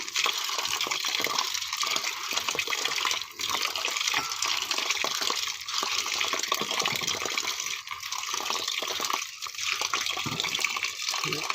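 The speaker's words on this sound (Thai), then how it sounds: "เราล้างสักสองน้ำ นี่ครับมาล้างสักสองน้ำครับเรา" Sunflower seeds being rinsed in water make continuous splashing and trickling, fairly loud and steady throughout with small dips.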